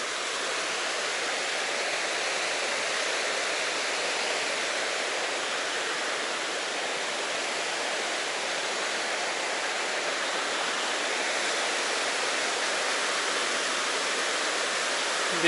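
Rapids on the Chattooga River rush with a steady, even roar of white water, continuous and unbroken, heard from a riverside trail.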